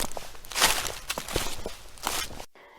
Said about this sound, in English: and with it the footsteps.